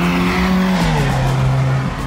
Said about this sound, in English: Garbage Altima making all that noise.